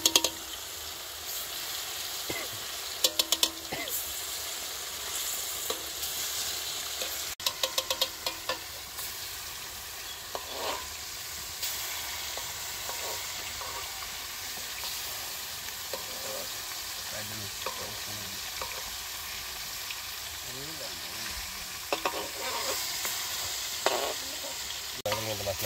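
Fish fries in a pan for a village-style fish curry, a steady close sizzle broken by clinks and scrapes of stirring and occasional knocks against the pan.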